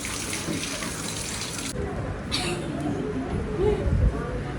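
Running tap water splashes steadily as a large cooking pot is washed at a sink. The flow is fairly quiet, with a few louder clatters and splashes near the end.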